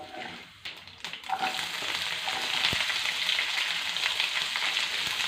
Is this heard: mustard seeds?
yes